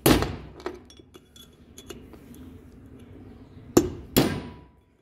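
A hammer strikes a chisel during a wheel bearing replacement, giving sharp metallic clanks at the start and two more near the end, with lighter ticks and taps scattered between them, close by.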